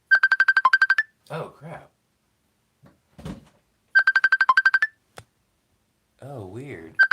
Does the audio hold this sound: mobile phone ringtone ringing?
yes